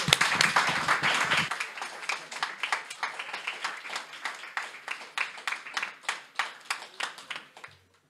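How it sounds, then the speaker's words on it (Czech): A small group claps in rhythmic unison during an ice-bath therapy session, starting as a burst of mixed applause and settling into steady, evenly spaced claps that slowly fade out. "Můžeme zatleskat."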